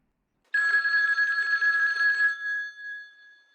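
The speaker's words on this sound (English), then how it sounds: "Until the phone rings." An old-fashioned telephone bell rings once in a newspaper newsroom, a bright, close metallic trill lasting about two seconds that then fades out with a lingering ring.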